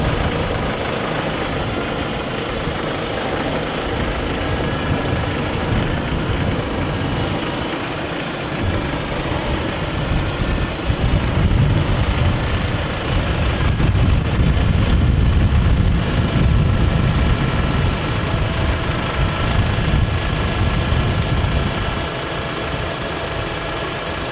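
A 90-horsepower KIY tractor fitted with an NT-1500 loader idles steadily, loud and close, with a low rumbling chug that grows heavier midway before settling again.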